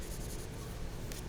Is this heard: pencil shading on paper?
yes